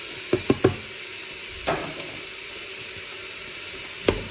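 Onions fry in a Ninja Foodi pot on medium heat with a soft, constant sizzle. A few sharp utensil knocks come near the start and one near the end as the onions are broken up.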